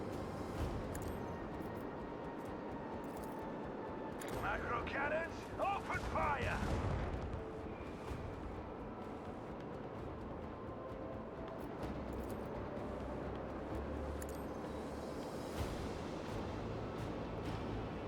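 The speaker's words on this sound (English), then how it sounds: "Macro cannons, open fire!" Macro cannons fire in the video game Rogue Trader, a rumbling volley of heavy shots that swells mid-way over a constant dense battle din.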